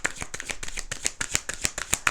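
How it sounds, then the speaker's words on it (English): A deck of oracle cards is shuffled by hand in a quick, even run of crisp riffling slaps, close and clear with no talk over it. "but I'm going to shuffle."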